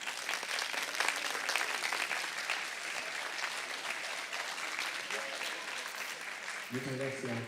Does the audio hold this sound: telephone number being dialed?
no